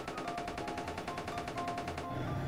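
Machine gun fire from a Minecraft superhero mod, a rapid, steady burst of evenly spaced shots lasting about two seconds, loud and close, with no talking over it.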